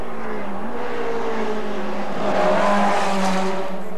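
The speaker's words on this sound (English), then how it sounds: "coming down the hill past the pit lane for turn number 12 and a run to the checkered flag, Jerry Barker of Cerritos, California." F Production race car at a 1980 national championship race, running downhill past the pit lane toward the final turn, its engine droning loudly and nearby, then swelling briefly as it passes, with no talk.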